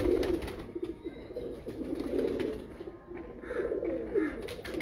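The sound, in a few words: Teddy pigeon female being held, cooing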